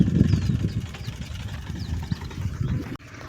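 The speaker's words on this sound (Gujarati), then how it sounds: "જો આ રીતના આ ટ્રેક્ટરને એવું હાલે છે" A tractor works a farm field, its engine giving a steady, fairly close low rumble. Faint birdsong sits behind it, and the sound cuts off abruptly near the end.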